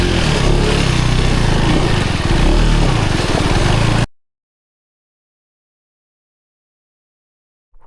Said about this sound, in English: Today we have the latest KTM 390 Enduro R, one of the most anticipated motorcycle from KTM lineup